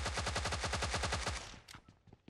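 A rapid burst of automatic gunfire in a video game, about twenty shots in quick, even succession, loud and close, then a few scattered quieter pops as it trails off.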